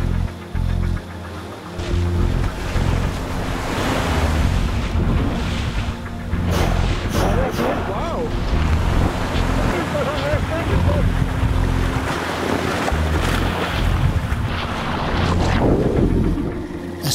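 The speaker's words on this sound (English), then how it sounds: "As fast as we could, we packed the Zodiac and took off." A Zodiac inflatable boat speeds across ocean waves, with steady engine roar and heavy wind buffeting the microphone. Splashes and hull slaps on the water continue throughout, loud and close.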